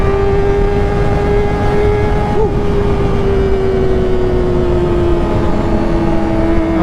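Powerful 1000cc big-bike motorcycles on a group ride produce a loud, steady engine drone that holds one sustained pitch throughout, with a faint dip partway through and a continuous rushing roar underneath.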